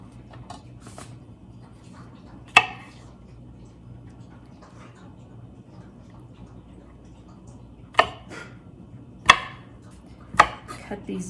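A knife chops garden vegetables on a cutting board in a home kitchen, giving four sharp, sparse thunks spread over several seconds against a quiet room hum, with a person talking faintly between them.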